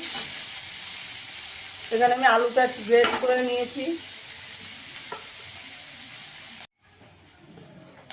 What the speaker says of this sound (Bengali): পেঁয়াজ কুচিটা দিয়ে দেবো, দিয়ে একটু ভেজে নেবো হালকা করে।